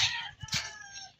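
A chicken gives short clucks and calls at close range on a farm, a couple of quick bursts over a steady background, with no talking.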